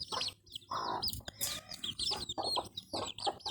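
Turkey poults chirp and peep repeatedly in a busy, overlapping chorus, close and fairly loud, with no talking.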